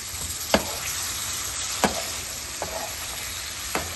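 Chickpeas hiss and sizzle in a pan of frying Bangladeshi buna khichuri, with four sharp spatula scrapes standing out over the steady fry, close and without talk.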